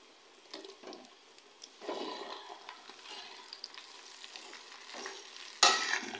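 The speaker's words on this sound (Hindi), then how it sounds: "अब हम भिंडियों को प्याज में शामिल कर देंगे।" Sliced okra goes into onions frying in a pan for a hotel-style bhindi fry, with close scraping stirs over a soft, steady sizzle and a sharp clatter near the end.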